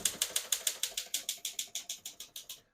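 A 1965 Remington Mark 2 portable typewriter is typed at an even pace, about fifteen crisp key strikes in quick succession, close and clear, ending in silence.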